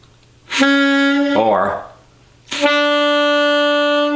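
Two sustained saxophone tones with bright, rich harmonics, played with a flat-chin embouchure, separated by a brief breathy, noisy passage, played loud and close with no talking.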